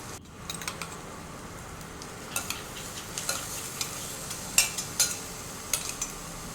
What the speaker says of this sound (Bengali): এটা একটু ব্রাউন কালার হওয়া পর্যন্ত আমি ভেজে নেব।